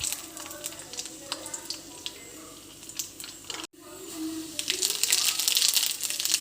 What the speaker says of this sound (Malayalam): എണ്ണ ചൂടായി, നമ്മൾ കടുക് ഇട്ട് പൊട്ടിക്കാം